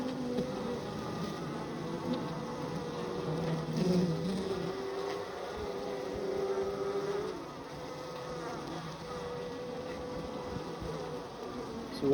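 Honey bees swarm and buzz around a honeycomb frame being cut, leaking honey, a dense continuous drone of many wings humming at close range with slight swells and dips, no talking.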